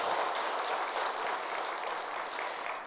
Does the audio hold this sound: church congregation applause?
yes